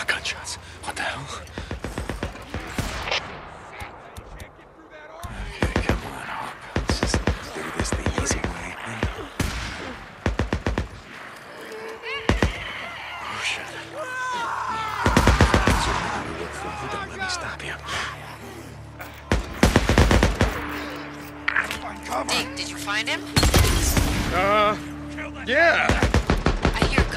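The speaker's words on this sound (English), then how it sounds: "Gunshots. What the hell?" Bursts of gunfire ring out in the Days Gone video game, loud volleys and rapid automatic fire in repeated clusters, with game voices and other effects in between.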